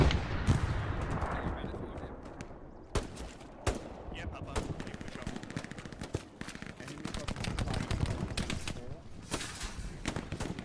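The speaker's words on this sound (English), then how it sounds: "Electric with his pistol, destroying Duke." Pistol shots and bursts of gunfire in the WWII shooter Hell Let Loose during a competitive match, dense repeated cracks near and far under a steady battlefield din, with a voice commentating over the action.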